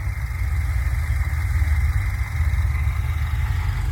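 A 1968 Chevrolet C10 with a rebuilt Vortec V8, Vortec heads, MSD ignition, Atomic EFI, headers, glass-pack mufflers and a mild cam idles steadily, a close, loud, deep low rumble holding an even throb with no one talking.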